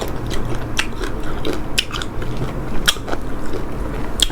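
Bites into a crunchy fresh green mango, several sharp crisp crunches scattered over a few seconds, close to the microphone with no talking.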